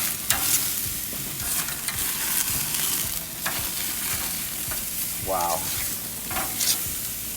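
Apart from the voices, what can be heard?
ribeye steak sizzling in pan after flipping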